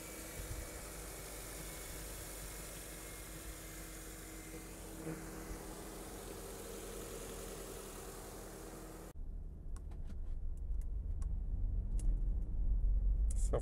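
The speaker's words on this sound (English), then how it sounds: "Now I'm gonna start the vehicle and check for leaks and then drive around." A Subaru Outback engine runs at a steady idle for about nine seconds after a valve cover gasket replacement, then gives a louder, rougher engine rumble as the car drives off.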